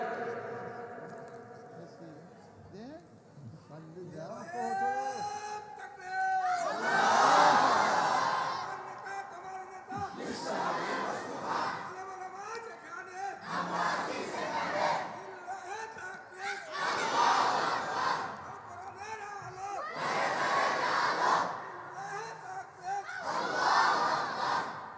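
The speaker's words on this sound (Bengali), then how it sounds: "একজন যুবক তাকবীর দেন তো" A large crowd at a religious sermon chants takbir (Allahu Akbar) in repeated loud, rhythmic call-and-response waves after a single voice leads.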